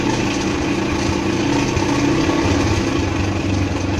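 Motorcycle engine idling at low speed, a steady close rumble with an even tone that continues unbroken for the whole stretch, no voices over it.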